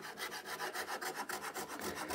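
A file rasping on wood to clean up a handsaw cut, in a steady quick rhythm of close, evenly spaced back-and-forth strokes with no talking.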